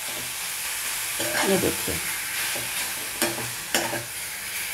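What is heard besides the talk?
raw mango and vegetables sizzling while roasting in pan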